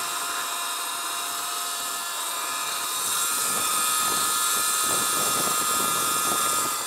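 A Sur Ron Light Bee supermoto electric motor strains up a steep hill on Sierra Road, a steady high-pitched whine with wind rush that grows louder and rougher partway through.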